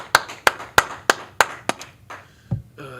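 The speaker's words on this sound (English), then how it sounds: "let's go ahead and clap it up" Group clapping at a Tuesday brotherhood class in Houston: about six loud, evenly spaced claps in unison, then a lower thump and a brief voice at the end.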